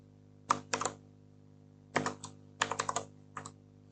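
Someone types code on a computer keyboard in quiet, close bursts of clicking keystrokes, separated by short pauses, with no voices.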